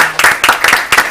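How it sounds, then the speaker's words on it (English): Audience applause at a community meeting, brisk, loud clapping from a few people nearby in quick bursts over about a second. "I want everyone to give you a round of applause."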